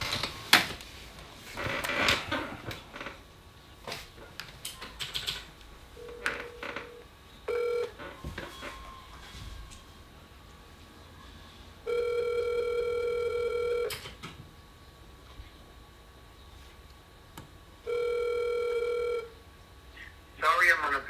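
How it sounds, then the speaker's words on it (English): A telephone is dialed and rings while calling a sales lead about selling land: scattered keypad tones, then two long, even ringback bursts separated by a pause, with a person talking in between. "We're actually gonna call a couple of leads right now to see if they want to sell."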